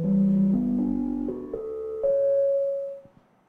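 A chord progression generated in Sonic Pi with play pattern timed, soft synth tones stepping through a few staggered notes and a held final tone that fades out, heard alone.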